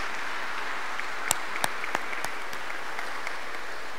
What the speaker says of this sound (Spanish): Entonces le damos un aplauso grande a todo el equipo de formación en la fe